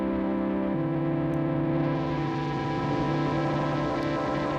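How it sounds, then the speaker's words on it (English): Sustained synth pad with tape-style compression and distortion from a Source Audio Ultrawave, a thick, steady droning chord with a gritty saturated edge, held evenly throughout without pauses. "we'll go through my tape compression or cassette tape compression patch and distortion."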